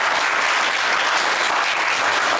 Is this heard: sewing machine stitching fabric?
no